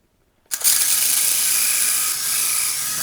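A toy F163 RC helicopter spins up and flies indoors, a steady high whirring buzz of small rotor and motor starting abruptly after a brief silence and holding loud and close throughout.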